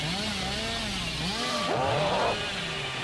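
Killer's chainsaw in the game Dead by Daylight, revving loudly with rising and falling engine whine and a surging burst midway, steady and close without speech.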